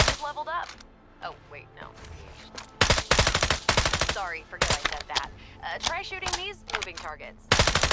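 Gunfire in the FragPunk video game: bursts of rapid, loud shots from close by, mixed with game sound effects and tonal interface chirps.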